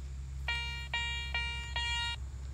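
Four quick, evenly spaced electronic tones from a metal detector pulse over a low engine-like hum, each a bright buzzy beep lasting under half a second, at an 1800s home site.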